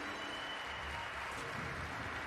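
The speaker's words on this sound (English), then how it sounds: "You can hear the crowd right now." The crowd at The International 2021 Dota 2 match roars and applauds in a steady wash of cheering, loud and continuous.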